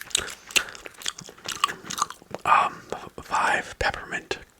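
Peppermint gum is chewed close to the ear with wet, sticky smacks and clicks in an irregular rhythm, mixed with soft whispering.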